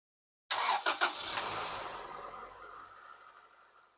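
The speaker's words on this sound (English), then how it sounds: "So we just fill it up to halfway and turn on our engine." A 1994–2001 Acura Integra engine cranks and catches after a new radiator fill, then settles into a steady close idle with a few sharp bursts at startup.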